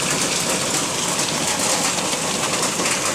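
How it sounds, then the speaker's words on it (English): Hail falls in a heavy, dense hiss of countless impacts, mixed with heavy rain, steady and loud throughout with no voices. "Hail? Yep, it's hailing."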